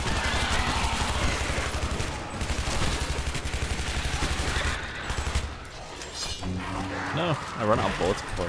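Rapid bursts of gunfire from the video game Shadow Warrior rattle through dense, busy game audio, with continuous bass-heavy background and people talking over parts of it.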